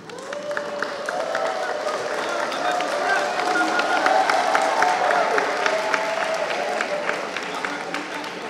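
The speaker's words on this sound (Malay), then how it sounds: "Dan seterusnya panel yang sering mendapat tepukan, Tuan Fo." Sustained applause from a crowd at a panel forum, with many hands clapping together at a steady level for several seconds.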